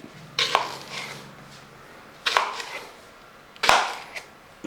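A knife chops raw green plantain on a board in three separate sharp cuts spaced about two seconds apart, close and crisp against a quiet kitchen, with no speech.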